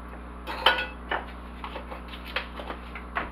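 A utensil clinks and scrapes against a bowl while mixing dry ingredients of salt and baking powder for a skillet pineapple upside-down cake, giving a few sharp taps among softer quiet scraping.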